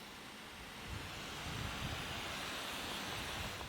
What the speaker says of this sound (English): just to shut the doors and then run low pressure water through the panel gaps